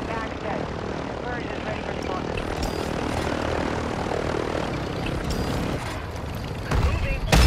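A helicopter flies in a video game, its engine and rotor drone running steadily under a busy mix of gunfire-like bursts and game effects, with a sharp loud impact near the end.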